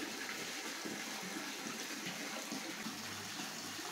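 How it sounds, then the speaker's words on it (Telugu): Water pours steadily into a sump fitted with a float valve, a continuous close rushing flow with no talk. "చూడండి ఇప్పుడు వాటర్ అనేది వస్తున్నాయి"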